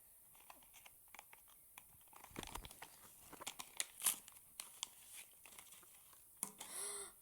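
Gift package being opened by hand, with paper and wrapping crinkling, tearing and rustling in quick irregular bursts at close range, quiet at first and busier toward the end, with no talk.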